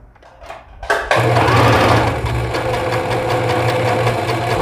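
A domestic sewing machine stitches a diagonal seam joining strips of fabric bias binding. It starts after a couple of soft handling sounds, then runs in a loud, rapid, even whir close by.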